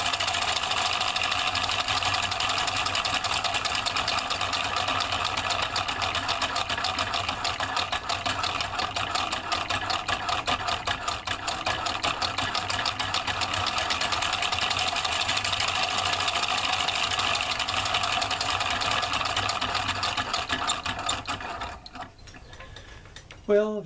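A homemade two-solenoid electric motor runs steadily with a dense, rapid mechanical clatter, close and constant for about twenty seconds before winding down and stopping.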